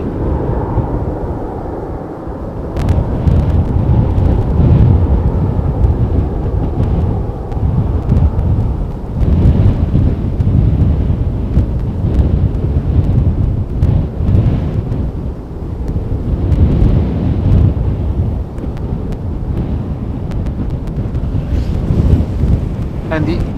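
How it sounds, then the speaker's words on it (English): An Embraer jet takes off from runway 36L at Amsterdam Schiphol, a continuous, loud, broadband engine roar with gusty wind buffeting the microphone, surging and fading over twenty seconds without any talking. "Quick rotation, steep takeoff."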